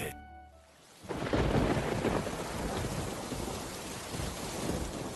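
A cartoon thunderstorm with hail and rain: after a second of quiet, a heavy roar of downpour and rumbling thunder floods in and keeps pouring steadily, with no voices.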